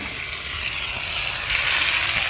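Meat with liver and hajmogarh sizzles as it is sautéed in a pan, a close, continuous hissing fry that stays loud and even throughout.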